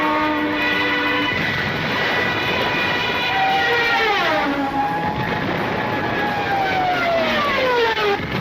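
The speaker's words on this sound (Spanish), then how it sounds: "Los Thunderbolt son unos aviones que, tal y cual como en su momento era el Stuka, hacen un sonido muy particular." A Fairchild A-10 Thunderbolt ground-attack jet flies past, a loud continuous roar and whine with tones sliding downward as it passes, heard alone without speech.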